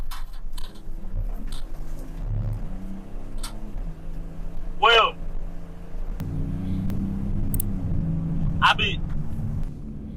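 A police trooper's car drives on after making a U-turn to chase a truck. Its low engine rumble runs steadily beneath nearly continuous talking, with a few faint ticks and brief sharper noises.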